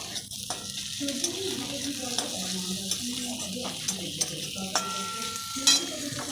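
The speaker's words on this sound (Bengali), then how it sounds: "পেঁয়াজ লাল করে ভাজা হয়ে গেছে দিয়ে দিচ্ছি টমেটো কুচি" Chopped tomatoes drop onto onions fried until red in a pan, giving a steady close sizzle with scattered stirring scrapes and a few light clinks, no talking.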